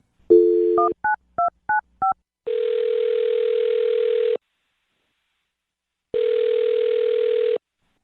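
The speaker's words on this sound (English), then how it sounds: "I'll dial her phone number right now then." A quick series of telephone keypad tones beeps out a number, followed by two long, steady ringback tones separated by silence.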